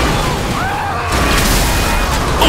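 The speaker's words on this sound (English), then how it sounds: "Oh, blew up one more time." Car explosion in Grand Theft Auto 5, a dense burst of blast noise with crackling debris that swells to a loud roar partway through and holds steady to the end.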